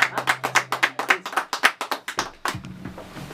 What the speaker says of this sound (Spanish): Y el aplauso bonito, ¿dónde está?